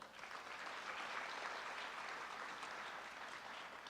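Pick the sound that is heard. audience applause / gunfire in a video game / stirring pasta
audience applause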